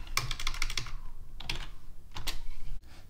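Rapid keystrokes on a computer keyboard while commands are typed in a terminal. The clicks come in close bursts with brief pauses between them, recorded near and clear, with no talk.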